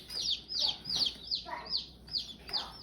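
Freedom Ranger baby chicks, newly arrived by mail, peep in a steady series of high, sharp chirps, several overlapping and close by, in a quiet room.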